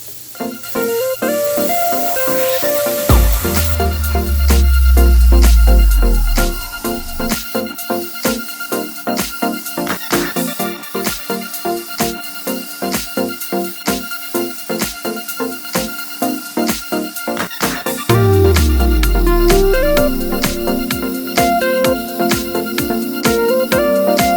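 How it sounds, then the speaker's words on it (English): A steady hiss of a paint sprayer applying Rust-Oleum paint to a trailer, coming in long continuous bursts with faint mechanical pulsing underneath; fairly loud and close, with no talking. "I'm going to let him spray this out"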